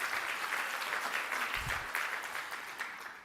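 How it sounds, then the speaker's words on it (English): An audience at a county State of the County address claps steadily for several seconds, a dense, even patter that slowly fades toward the end, with no voices over it. "Here, a little clap."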